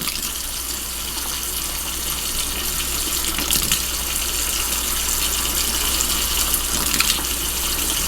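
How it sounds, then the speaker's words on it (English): Water pours steadily from a faucet in a close, continuous hissing gush, with a few faint clinks. "I'm going to turn on the faucet now"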